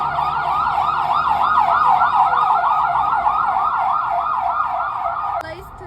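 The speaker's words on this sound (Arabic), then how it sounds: "سامعين صوت الإسعاف" An ambulance siren wails loudly in a rapid rising-and-falling yelp pattern, close by, with traffic rumble beneath before it cuts off abruptly.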